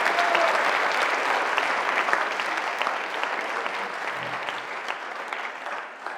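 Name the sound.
audience applauding during a pleading contest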